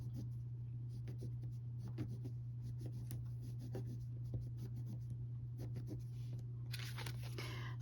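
Pen drawing Sashiko stitching lines onto quilt fabric, a faint, steady scratchy rubbing with short repeated strokes over a constant low hum, with no talk.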